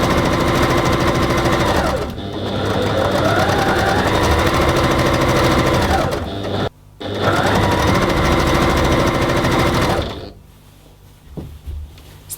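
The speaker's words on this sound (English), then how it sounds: "There we go, I've top stitched the whole seam." A sewing machine topstitches a scarf seam in a loud, steady, close mechanical whir that runs almost continuously, pauses briefly twice, then stops and leaves faint handling sounds.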